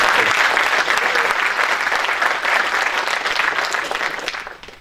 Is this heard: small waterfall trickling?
no